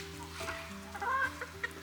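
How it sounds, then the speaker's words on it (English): Crested pom-pom head chickens cluck softly in an English countryside yard, giving a few brief, quiet clucks over low background noise. "We call them pom-pom head chickens."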